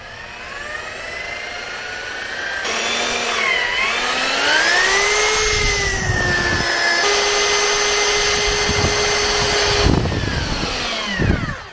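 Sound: electric paddle mixer stirring European plaster powder

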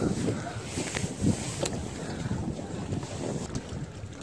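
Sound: strong wind

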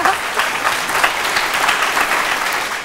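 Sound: studio audience applause

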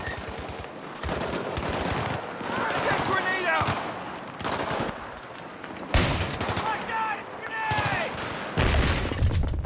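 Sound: heavy gunfire in video game Battlefield 3

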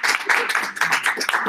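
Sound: audience applause

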